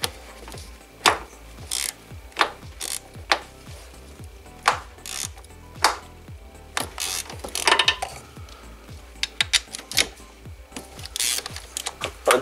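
A hand ratchet loosening valve cover bolts on a BMW E46 engine: close, repeated clicking pawl strokes in bursts, with sharper cracks as bolts break free, and no talk.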